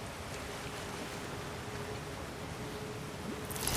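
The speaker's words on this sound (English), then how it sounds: "Sounds like you got the water moving along" Flowing water in a mine area of God of War Ragnarok, a steady broadband rush running continuously and fairly evenly throughout, with no talk.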